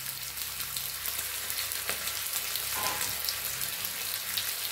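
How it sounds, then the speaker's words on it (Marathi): Potatoes fry in hot oil with a steady, close sizzling hiss and occasional soft crackles throughout. "तर हे तेलावर जरा असं आपल्याला फ्राय करून घ्यायचे छान, एक 2 मिनिटं"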